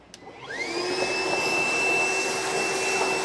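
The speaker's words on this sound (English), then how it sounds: "Then we'll take a vacuum, clean up our area" A shop vacuum cleaner starts up with a short click and a rising whine, then runs at a steady, loud drone while cleaning up a work area during a gooseneck trailer hitch installation under a vehicle.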